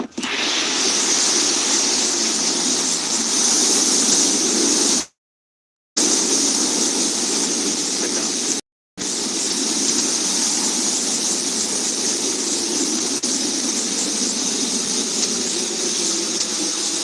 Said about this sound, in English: that BE-3 engine rumble really coming through